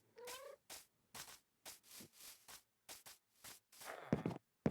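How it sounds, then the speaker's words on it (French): A cat in a video game gives repeated meows and yowls, a string of short separate calls at a steady pace, close and clear, followed by footstep-like clatter at the end. "Ah non, c'est un minou."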